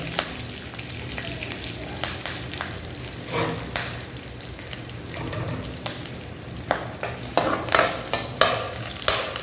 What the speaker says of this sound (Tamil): நம்ம இது எண்ணெயில் வதங்கினோம்னா முடியும்